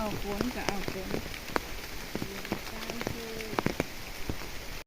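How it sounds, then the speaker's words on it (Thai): Steady rain patters on a surface, with scattered louder drips and faint voices in the background. "ฝนมาครับวันนี้"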